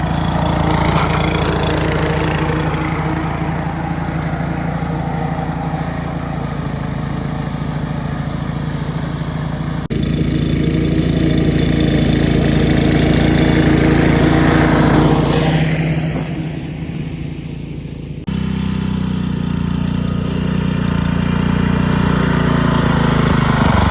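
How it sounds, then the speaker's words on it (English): An old Australian-made lawn mower built in Brisbane runs steadily with a loud, close engine drone that shifts in pitch a few times as it cuts. "Australian made mower, this one. Made in Brisbane, can you believe it?"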